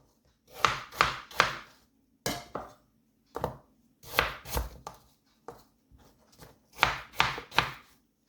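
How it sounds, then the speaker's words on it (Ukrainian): A knife chops apples on a cutting board into small pieces in quick bursts of sharp thuds, close and crisp, with short pauses between groups of cuts. "Яблучка ріжу ще на дрібніші частинки."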